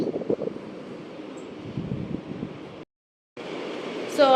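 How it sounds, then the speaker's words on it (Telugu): Steady broadband wind rumble buffeting a microphone, loud and continuous, cutting out briefly to silence before resuming with a sharp gust at the end. "అసలు మీకు నా సౌండ్ కూడా వినిపిస్తుందో లేదో గాలి అంతలా వస్తుంది"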